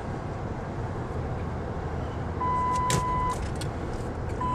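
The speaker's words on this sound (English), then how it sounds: "his car would stop beeping" A parked car gives off a steady electronic beep, one long tone lasting about a second followed by the start of another, heard faintly over constant outdoor road rumble.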